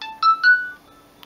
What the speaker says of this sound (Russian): Это сигналы календаря всякого.